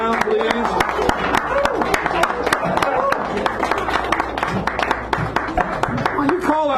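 Scattered, thin applause rises from a small audience at an evening poetry hour in a San Francisco cafe, the dense claps mixed with voices talking over them throughout.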